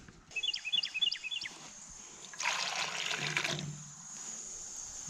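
Water is poured out for farm animals on a homestead, a close splashing pour lasting about a second and a half, preceded by a run of chirping or squeaking and followed by a faint trickle.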